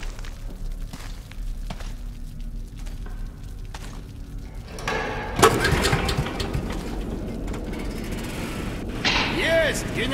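An underground generator in Metro: Last Light coughs into life midway after a few quiet clanks, then settles into a loud, steady mechanical running hum with rattling overtones.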